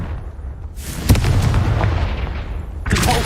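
A Confringo explosive spell in Hogwarts Legacy, a fiery whoosh followed by a loud blast with rumbling debris and a second burst near the end, all close and dense.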